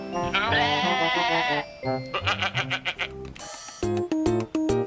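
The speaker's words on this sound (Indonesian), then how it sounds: "Kambing, goat." A goat bleats several times in quick succession, loud and close, with wavering cries broken into short pulses.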